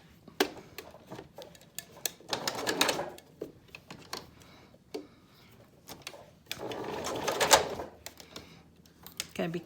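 A sewing machine stitches a thick fabric face mask held with pins, running in short bursts and longer runs with gaps between them, fairly close, with occasional handling clatter and no talk over it.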